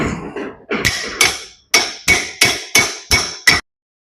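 About eight sharp metallic hammer blows drive a bearing into the hub of a fertiliser spreader bogey, struck through the old collar. Each ringing strike is close and loud, coming faster toward the end, then silence.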